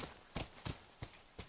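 Horse hooves in The Last of Us on PS3: five evenly spaced clip-clop footfalls at a steady walking pace, close and distinct over a constant low background.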